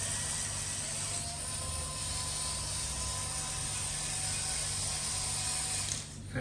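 An FMS Land Cruiser 45 RC scale pickup truck grinds along in low gear with a continuous, noisy whine and ratcheting gear chatter, close and steady, ending in a brief shift at the end.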